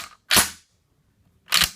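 Racking the Garand-style action of a Norinco M14 rifle on a tabletop produces two sharp, loud metallic clacks about a second apart, with silence between them.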